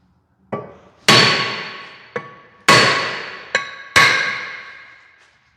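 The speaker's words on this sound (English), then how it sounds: "a BFH, a big flipping hammer." A big hammer strikes a seized brake part five times, each sharp metallic clang ringing out and slowly decaying, with uneven pauses between blows and no talking.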